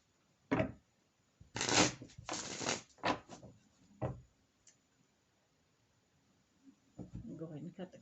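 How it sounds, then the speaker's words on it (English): Rider-Waite tarot cards are shuffled and cut by hand in several quick riffling bursts, crisp and close, separated by short pauses, with soft talk near the end. "I'll go ahead and cut the cards."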